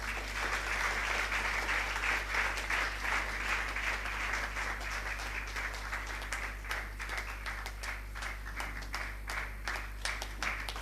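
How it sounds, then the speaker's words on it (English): An audience at a biblical seminary graduation service claps for a reverend being introduced, a steady, dense wash of applause that fills the whole stretch at an even level, with no voices over it. "Would you please give a good clap?"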